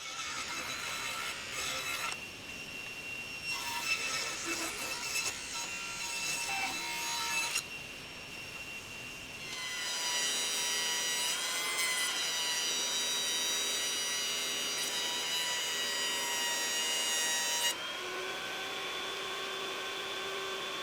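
A scrap wood board being cut down by saw, in long continuous bursts of rasping strokes separated by short pauses, close and loud with no talking.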